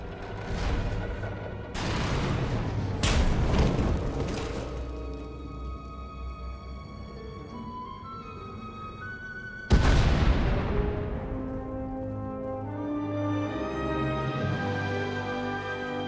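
Several deep booming explosions with crashing debris in Star Wars: The Old Republic as a tunnel collapses, heavy impacts spaced apart over a lingering rumble and tonal background music.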